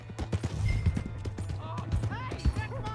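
Horse hooves clip-clopping in Red Dead Redemption 2, a quick irregular patter of hoof strikes close by, mixed with voices talking over it.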